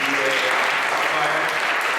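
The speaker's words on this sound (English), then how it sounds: "One more round of applause for our lovely" An afternoon audience applauds a choir at Ursuline Academy, steady dense clapping that fills the room at even loudness with a voice faintly underneath.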